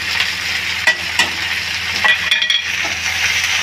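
A spoon stirs chopped tomatoes into sizzling vegetables with capsicum and green chilli in a pan for masala momos, continuous loud frying hiss broken by a few scraping strokes, no voices.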